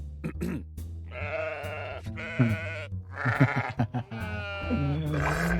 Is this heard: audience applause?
no